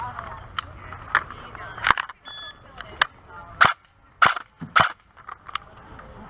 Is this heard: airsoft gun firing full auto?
yes